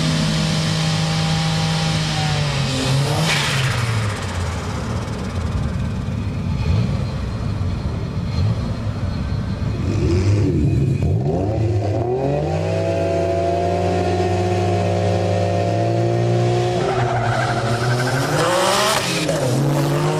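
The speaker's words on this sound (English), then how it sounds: "It's up against a JZS 147 Aristo sedan with the same twin turbo 2JZ used in the JZA80 Supra." Street drag race with a twin-turbo 2JZ Toyota Aristo JZS147 sedan accelerating hard, loud engine roar rising through gear changes with tire squeal, continuous and close with no talk.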